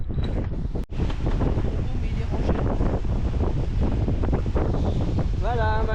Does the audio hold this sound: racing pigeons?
no